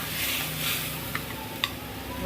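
Potatoes sautéing with salt and turmeric in a pan, a close steady sizzle with a couple of sharp spatula clinks against the metal.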